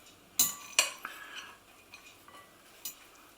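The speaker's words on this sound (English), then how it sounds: "Give it all a stir, and I'm using a pasta spoon fork type thing" A pasta spoon-fork stirs a carrot, apple and walnut salad in a bowl, giving two sharp clinks of utensil on the dish followed by softer scattered taps and rustles, close and alone without talk.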